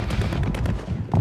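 Rapid bursts of Ram-9 submachine gun fire in Warzone, a quick run of sharp shots over about a second, fairly close and loud with no talk over it.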